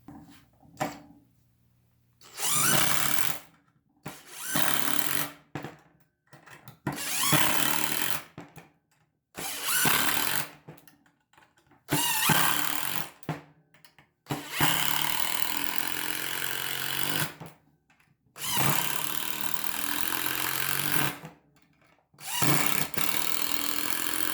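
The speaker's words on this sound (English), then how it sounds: "we'll be drilling in these screws with my favorite Makita XPS driver bits" Cordless power drill driving screws with Makita XPS driver bits in a Makita versus Masterforce comparison, loud bursts of whirring motor repeating in about eight runs with short quiet gaps between them, close and alone.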